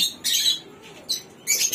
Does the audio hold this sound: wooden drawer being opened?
no